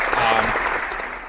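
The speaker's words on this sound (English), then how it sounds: "You might hear some very obviously fake applause." Canned applause from a soundboard, a brief dense burst of clapping at steady loudness, close and full, lasting just over a second.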